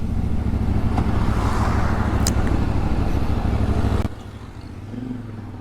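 A 2025 CF Moto 450 MT adventure motorcycle being ridden, its engine droning loud and steady with wind rush for about four seconds before dropping abruptly to a softer idle-like hum.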